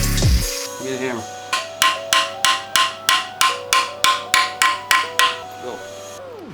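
Hammer blows ring out on metal during a job to free a stuck nut by welding another nut onto it, about a dozen sharp, evenly spaced strikes close by, each leaving a ringing tone, with brief talk at the start.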